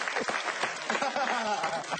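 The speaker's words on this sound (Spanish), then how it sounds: "¡Ey, un aplauso para este señor que cumplió 40 años!" Audience applause at an interview show, a dense burst of clapping with crowd noise mixed in, heard briefly and fairly loud.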